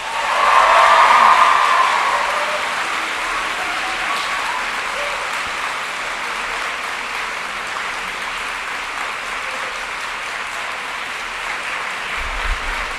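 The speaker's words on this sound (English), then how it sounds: "clap and cheer and applaud your families, friends and supporters for all that they have done for you" A graduation audience in a large hall breaks into loud, sustained applause with some cheering, peaking early and then holding steady as a dense wash of clapping without speech.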